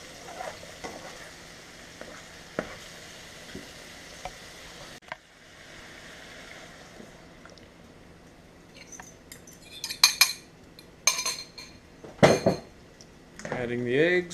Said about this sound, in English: Adding the eggs.